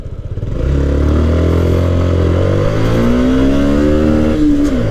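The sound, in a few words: motorcycle accelerating in a 0 to 100 run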